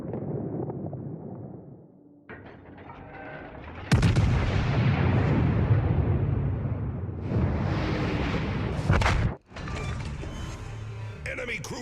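Naval guns in the video game Warships fire on an enemy cruiser: loud, heavy booming blasts roll one into another with deep rumbling echoes, then a sharp crack and a renewed barrage.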